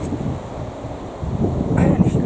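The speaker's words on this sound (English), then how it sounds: "I don't know if you're going to be able to hear me today because it's so windy." Strong wind buffets a microphone outdoors in a kitchen garden, a steady low roar that swells louder toward the end, with no clear speech.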